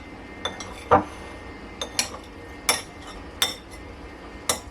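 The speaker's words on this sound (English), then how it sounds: "Just going to cut it into a little bit smaller pieces so that it melts more evenly" A knife taps and clinks against a dish while cutting partly melted butter into smaller pieces, giving about eight sharp, separate contacts at an uneven pace over a quiet background.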